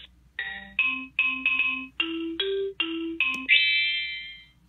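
Bright marimba notes from a children's learning toy ring in a quick bouncing melody, about a dozen short tones ending on one longer held note, clear and close.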